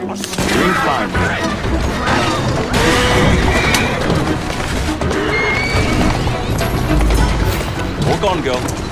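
A horse neighs and whinnies loudly amid clopping hooves and thuds in an Assassin's Creed Syndicate street scene, busy and close, with people talking over the action.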